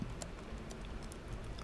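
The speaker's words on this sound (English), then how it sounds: "we'll type in hardware." Typing on the keyboard of an RCA Cambio 2-in-1 tablet, with soft, quiet key taps in an uneven, brisk rhythm over faint room noise.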